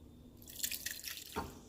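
Strained sweet and sour sauce drips steadily through a strainer in a home kitchen, a few faint, close splashes and trickles with no talking.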